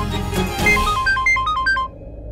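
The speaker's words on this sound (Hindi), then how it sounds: "परम, ये इस वक्त क्यों फोन कर रहा?" A mobile phone rings with a bright, melodic electronic ringtone. The repeating tone pattern plays loud and close for about two seconds and then stops.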